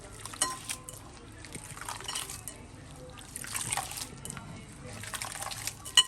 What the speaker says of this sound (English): mix this in and squeeze until you see the water becomes nice and white and milky